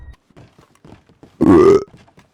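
A loud, drawn-out burp bursts through Red Dead Redemption roleplay voice chat, lasting about half a second amid quieter scattered sounds of voice chat.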